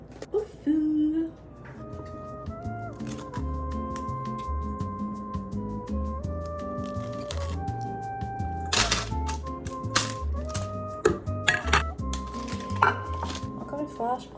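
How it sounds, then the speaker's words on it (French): Broccoli being rinsed and cut in a home kitchen, with busy clinking, tapping and knocking of utensils and dishes throughout, a brief burst of running water at the start and occasional sharper knocks later. "les brocolis, je vais les laver, les couper, les assaisonner"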